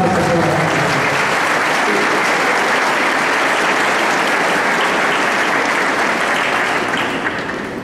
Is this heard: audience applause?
yes